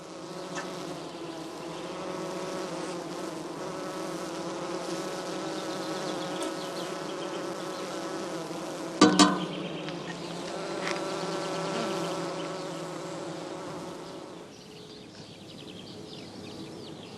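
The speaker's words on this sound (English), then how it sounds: "The bees are busy feeding their brood." A dense, steady buzz of many honey bees fills the air around the straw skep hives, with a brief sharp knock midway and occasional faint chirps.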